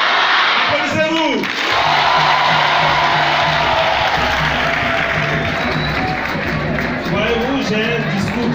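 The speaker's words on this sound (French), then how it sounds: "Applaudissez-vous." A large crowd at an official youth program launch in Côte d'Ivoire applauds and cheers loudly and continuously, with shouts and voices rising through dense clapping.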